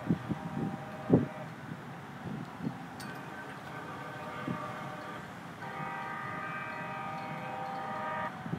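City light rail train passing near a cemetery in Hawaii on a hot, breezy day, a moderate distance away with rumbling and sustained tonal hum from the wheels and motors, a few thumps at the start.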